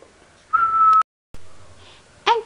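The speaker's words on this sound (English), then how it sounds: "I'm gonna blow my whistle." A short whistle blast rings out, a thin steady tone lasting about half a second, followed by a brief chirpy blip after a pause.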